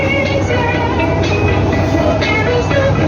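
An old crop sprayer machine driving through a wheat field, a loud, steady mechanical engine roar with rattling and clanking throughout, close and continuous with no talk.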